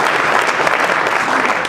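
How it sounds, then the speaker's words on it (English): Steady audience applause for opening-act entertainers at an evening awards ceremony, a dense continuous clapping from a crowd that holds evenly throughout without voices over it. "you can clap for the opening act, and Randy Paul and Jim Ross"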